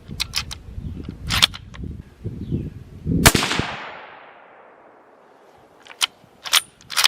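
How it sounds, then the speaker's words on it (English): Rifle in .25-06 firing Fusion ammunition at a 100-yard range: one loud, sharp gunshot with a long echoing decay, preceded and followed by clanks and handling noises from the shooting bench. "let's see how it likes this Fusion stuff"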